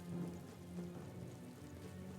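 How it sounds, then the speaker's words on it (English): Steady rain falls in the video game Metaphor: ReFantazio, a soft continuous wash at low volume with no talking over it. "It's raining."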